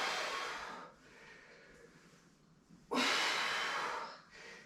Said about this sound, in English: Breathing out while you're exerting.